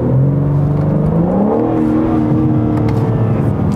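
A 2021 BMW M4 Competition accelerates hard from a standstill, its engine note climbing and dipping through gear changes as a loud, continuous revving drone captured close up.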